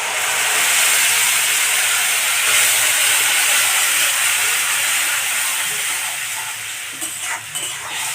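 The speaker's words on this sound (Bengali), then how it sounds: "মশলাতে পেস্ট করে রেখেছি আমি কাঁচা লঙ্কা, টমেটো, রসুন আর সর্ষে। এবার এটাকে দিয়ে দেবো।" Green chili, tomato, garlic and mustard spice paste hits hot oil with frying onions, giving a loud, steady sizzle and hiss throughout, with some stirring scrapes near the end.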